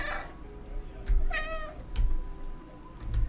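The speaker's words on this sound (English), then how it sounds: "Let's go into this room and meow." A cat in the video game Stray gives a clear, drawn-out meow with a couple of shorter chirps after it, set over a faint, low background hum.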